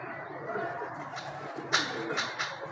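Pigeons at a rooftop loft, with soft cooing and a few brief chirpy calls and possible wing sounds over a steady background hiss, moderately close and fairly quiet, no speech.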